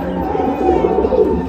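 A small Madrasi pigeon coos softly and steadily at close range, its low rolling calls continuing throughout against a faint background.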